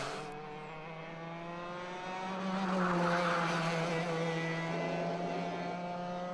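An onboard racing kart engine at Whilton Mill during a Club100 heavyweight sprint race, buzzing steadily and climbing in pitch as it accelerates uphill, fairly close and continuous with no talk.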